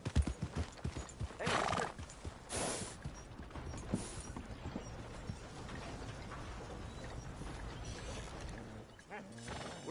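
Hooves clip-clop and a horse whinnies in the video game Red Dead Redemption 2, close and moderately loud, while a character speaks over the sounds.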